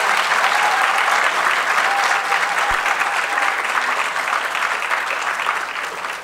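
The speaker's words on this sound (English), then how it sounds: "another round of applause for Dr." A conference audience at a plenary session of an indigenous law gathering applauds steadily throughout, a dense, even wash of many hands that tapers slightly toward the end.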